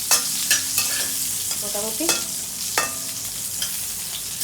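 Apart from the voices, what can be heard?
eggplant frying with nigella seeds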